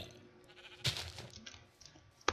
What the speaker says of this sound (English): Sheep, you scared me.